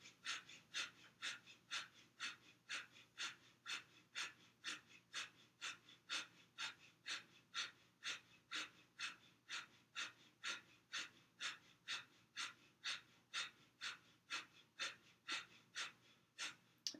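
Rhythmic, forceful breaths through the nose, a Kundalini yoga breathing exercise, pulse in a steady rapid series of about thirty short bursts, close and fairly quiet with nothing else heard.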